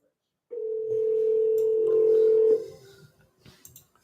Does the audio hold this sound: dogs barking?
no